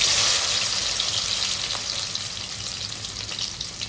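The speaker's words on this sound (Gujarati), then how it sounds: "આપણે ટમેટું લીલું મરચું અને ડુંગળી નાખી દેવાનું છે તેલમાં." Tomato, green chili and onion fry in hot oil, a loud, dense sizzle that starts strongest and eases slightly as it continues, with no talking.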